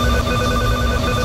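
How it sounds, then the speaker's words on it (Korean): A telephone rings steadily and continuously with an incoming order call at a small fried-chicken shop, the tone loud and close against a background of kitchen noise. "김영남 씨가 주문 전화를 받고 능숙하게 닭을 튀깁니다."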